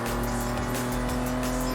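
A car engine in the racing game Forza Horizon 5 holds a steady, close tonal hum with a faint tire-hiss texture over a brief moment.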